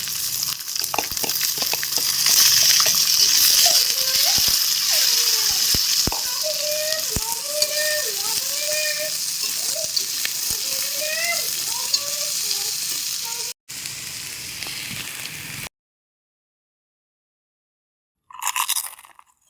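Onions frying in a pan, a dense close sizzle with scattered spoon taps and crackles, a few faint whistling tones over it, then a near-silent pause and a short loud burst at the end.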